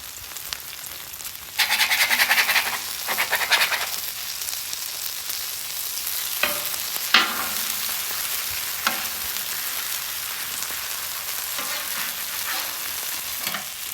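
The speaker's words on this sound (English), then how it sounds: "All right, so our bacon's crisping up." Bacon frying on a flat top grill, a steady loud sizzle and crackle throughout, with scraping and stirring noises in the first few seconds and occasional spatula taps, no voices.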